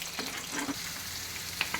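Cut onions, green chilies, bay leaves, cardamom and cinnamon frying in hot oil, a soft, steady sizzle with a few light clinks and scrapes, fairly quiet and brief, no voices.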